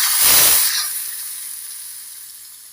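Hot ghee tempering is poured into tomato rasam, setting off a loud burst of hissing sizzle that quickly fades into a long, quieter hiss.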